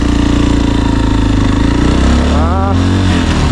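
A motorcycle in first gear pulls away with a loud, close engine drone that rises in pitch as it accelerates, with a voice speaking over it.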